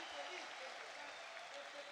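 A Dota 2 LAN event crowd fills the room with steady applause and cheering, heard as a faint, continuous wash at a distance while someone talks over it.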